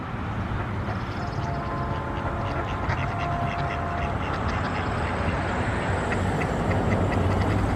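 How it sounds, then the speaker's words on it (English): A group of ducks, a mother with her ducklings, quacks intermittently in the middle distance against a loud, steady rumbling background noise that persists throughout. "Look at all these little ducks with their mother."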